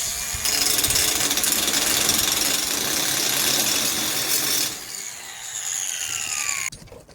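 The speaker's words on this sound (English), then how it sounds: "what I did right there was just grind off some paint, so that way it welds better" An angle grinder works close and loud, stripping paint off steel before a stick weld. It keeps up a steady harsh whine for about four seconds, then spins down with a falling pitch and stops.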